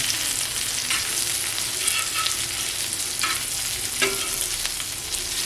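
Squid frying on a hot tawa, a steady close sizzle with occasional stirring scrapes and small pops, no talking.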